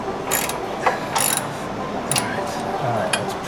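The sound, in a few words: tightening bolts on motorcycle engine guards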